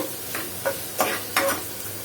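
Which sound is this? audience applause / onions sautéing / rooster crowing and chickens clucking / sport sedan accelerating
onions sautéing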